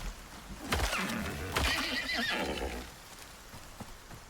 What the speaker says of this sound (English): Those horses really do not like us.